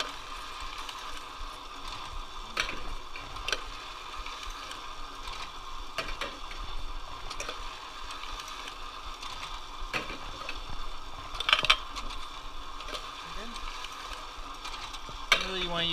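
Advent 200 plain paper labeler laying a skip glue pattern and applying labels to fiber containers, giving a steady mechanical whir with small ticks and ratcheting clicks throughout and a few louder clacks near the end.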